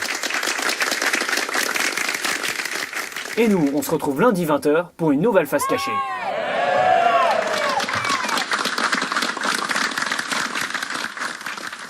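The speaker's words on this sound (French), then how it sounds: "Applaudissons-la bien fort." A studio audience applauds warmly for Lia, with dense steady clapping at the start. A tune and a speaking voice cut in briefly, then the full crowd applause swells back and carries on to the end.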